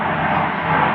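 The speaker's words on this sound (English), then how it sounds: "Excuse the plane." A fixed-wing airplane drones overhead as a steady, broad rumbling roar, loud and continuous with no talk over it.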